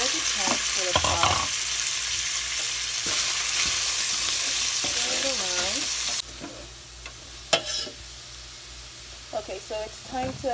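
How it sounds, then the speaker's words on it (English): Veggie chunks hiss and sizzle loudly as they go into a hot pot, then the frying settles quieter while a spoon scrapes and stirs in irregular strokes, heard up close. "I'm going to add my veggie chunks to the pot"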